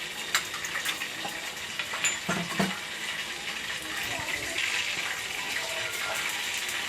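Spices roast in a pan for Konkani-style lemon pickle: coriander, turmeric, fenugreek and mustard seeds give a steady close sizzling hiss with scattered crackles and the scrape of stirring throughout.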